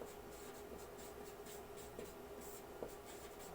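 Chalk scratches and taps across a classroom board in short strokes, quiet and close, with faint room hiss and no talking.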